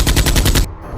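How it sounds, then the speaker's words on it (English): A burst of rapid automatic gunfire in a toy-blaster battle game, loud and close, a fast rattling string of shots that cuts off abruptly. "Oh! Automatic fire!"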